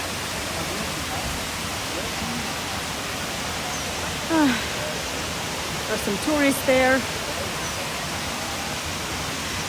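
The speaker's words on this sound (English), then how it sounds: "Beautiful waterfall." Waterfall in the Tbilisi Botanical Garden, a steady broadband rush of falling water filling the whole clip, with brief voices and a short spoken remark partway through over the constant roar.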